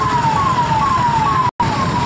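A police car siren in a traffic jam on the NH34 highway near Berhampore, Murshidabad, West Bengal, wailing loud and close in repeating falling sweeps, briefly cut off once.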